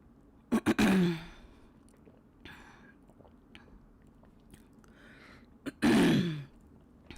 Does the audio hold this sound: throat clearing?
yes